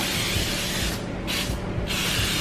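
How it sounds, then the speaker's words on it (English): Two short hissing bursts of canola oil cooking spray onto a bread pan, close up, over a steady background hum. "I'm just going to spray a little bit of canola oil"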